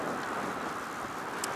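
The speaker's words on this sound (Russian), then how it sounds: "Ветер прям усилился." Steady wind roars and buffets the microphone on a dam near Kronstadt, a constant broadband rush with no voices.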